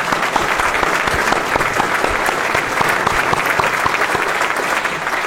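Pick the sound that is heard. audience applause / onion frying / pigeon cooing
audience applause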